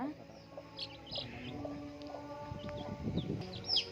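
Baby chicks give several faint, high, short peeps against a soft background of indoor noise and low murmuring.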